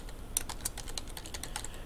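Quick, light keystrokes on a computer keyboard while code is being edited, a fairly even run of soft clicks close to the mic, faint and with no talking.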